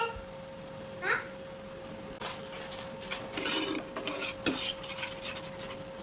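Leftover tandoori masala and tomato sauce cooking in a pan, with scattered scraping stirs and soft clinks of a utensil against the pan over a low, steady background hum.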